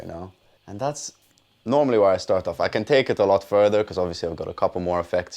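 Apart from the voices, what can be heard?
No everyday noise stands out behind the speech.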